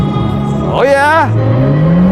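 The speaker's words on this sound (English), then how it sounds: "this is the first time that I'm driving a Ferrari" A Ferrari Roma Spyder accelerates with a rising engine note that sweeps upward, mixed with tire and road noise, close and loud from the cabin, with an excited voice shouting briefly.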